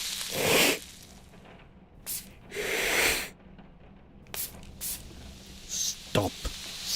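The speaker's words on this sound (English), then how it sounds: "Stop spraying me." Several short hissing spray bursts, close and fairly loud, separated by pauses, with a few faint breathy noises and clicks between them.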